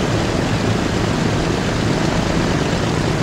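A loud, steady propeller aircraft engine drone from the game Transport Fever 2, a dense unbroken roar that holds level and fills the whole stretch with no talk over it.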